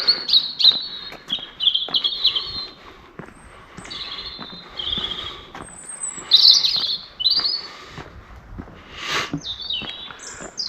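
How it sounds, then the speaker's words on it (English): Birds chirp and tweet in short, high bursts from trees overhead at Smithills around 3:30 AM, fairly close by, with brief pauses between calls and no talking. "it sounds nice that, doesn't it, when you can hear the birds"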